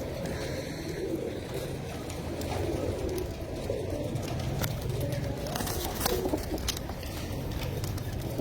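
Pigeons, some wearing golden leg rings, coo low and soft in a continuous murmur, with occasional faint flutters and clicks nearby.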